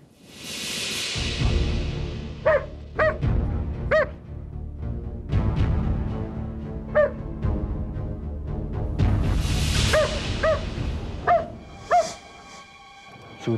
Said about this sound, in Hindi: ये यहाँ क्यों भौंक रहा है?